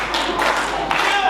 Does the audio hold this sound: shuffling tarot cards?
no